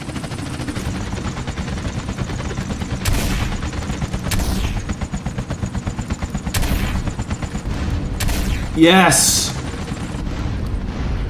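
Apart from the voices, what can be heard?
video game explosion and gunfire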